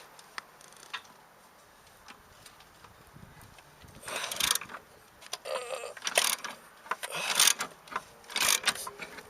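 Spanner working loose a bolt on the ABS speed sensor of a Mercedes-Benz W210 E-Class, giving quiet scattered ticks at first, then louder bursts of metallic ratcheting clicks in short clusters over the last half.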